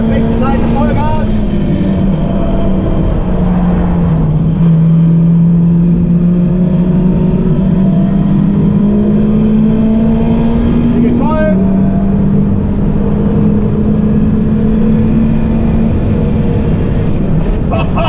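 A race car at full throttle on the Nordschleife, its engine droning loud and steady with a rising pitch, one brief dip as it shifts partway through, the roar close and constant throughout.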